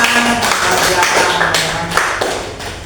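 A class applauding together during a teaching practice session: dense, continuous clapping from many hands, mixed with voices talking.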